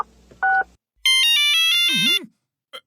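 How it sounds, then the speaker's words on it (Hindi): Cartoon phone sounds: a short dial beep, then a bright electronic ringtone melody of repeated tones, a warbling sweep and a brief final blip, loud and close with no talking. "हम सबको फोन कर करके यहाँ बुलाएंगे"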